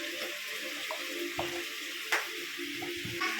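Water is poured into a paella pan holding oil, chopped red and green peppers, garlic and parsley, giving a steady splashing trickle with a light sizzle and a few clinks of stirring, and no talk.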